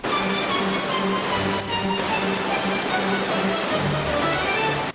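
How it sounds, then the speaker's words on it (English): A waterfall formed by erosion produces a continuous, even rushing roar with a faint tonal layer underneath, briefly dipping once before running on steadily. "This waterfall was formed by erosion."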